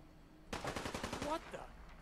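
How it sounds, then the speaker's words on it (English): Gunfire in the video game Fallout 4, a rapid burst of several shots lasting under a second, fairly close and sharp against a quiet background. "And heard gunfire."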